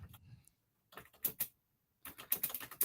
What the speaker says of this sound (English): Get to cut out Neil tapping furiously on his keyboard